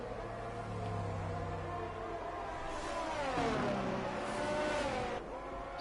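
Race car engines whine and rise in pitch in the F1 22 video game during an F4 round at Hungary, several cars passing with sweeping engine tones and some tyre noise, without commentary.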